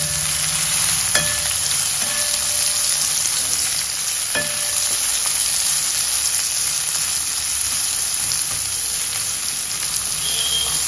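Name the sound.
sliced onion being sautéed in a pan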